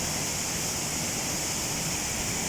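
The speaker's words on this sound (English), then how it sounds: "You see beautiful waterfalls" A waterfall rushes in a steady, even broadband roar with no pauses or voices, constant and fairly distant.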